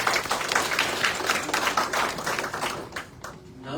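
Applause from an audience at a product launch event in the Philippines, a dense, steady wash of clapping that stays loud throughout and begins to thin out near the end.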